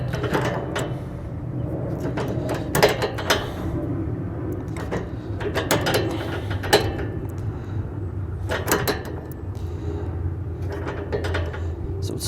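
Wrench tightening the adjustment on a B&W Companion OEM fifth wheel hitch in the bed of a 2022 Ram 2500: scattered sharp metallic clicks and knocks come at uneven intervals over a steady low background rumble, with no talk.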